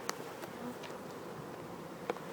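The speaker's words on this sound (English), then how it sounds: "look at the bees." Honeybees in a cell builder colony give a steady low hum throughout, with a few brief sharper buzzes of individual bees passing close.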